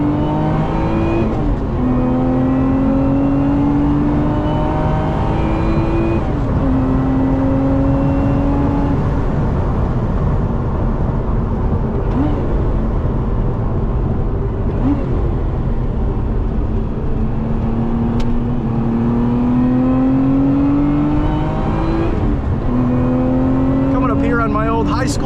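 A 2025 Lotus Emira V6 drones steadily from inside the cabin while driving, its engine and exhaust rising and falling through gear changes, with a voice talking over it.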